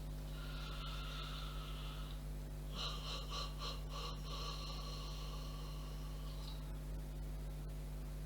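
A long, deep breath drawn in, then another, during a guided shoulder, hand and relaxation exercise, heard as soft airy breathing close to the microphone against a steady background hum, with no talking.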